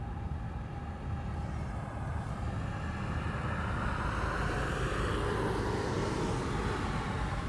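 An Airbus A321 airliner at Honolulu airport produces a steady, broad jet roar that swells slightly as it passes. The sound is distant to moderately near, with no voices.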